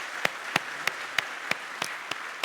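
A church congregation claps at a Sunday infant baptism service, heard as a short run of sharp, separate hand claps at a steady pace over a quiet room, not yet swelling into full applause.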